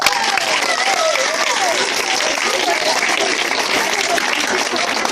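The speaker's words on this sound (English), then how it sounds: "Clap for yourselves." Primary schoolchildren clapping for themselves in a classroom, a busy, energetic patter of many small hands that stays loud and steady, with some voices audible over the clapping.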